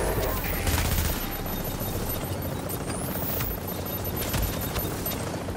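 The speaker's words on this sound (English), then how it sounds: "this guy's trying to shoot" Video game gunfire rattles in dense bursts of fusillade and machine-gun fire, loud and continuous throughout, with a low rumble behind it and a player's voice occasionally talking over the shooting.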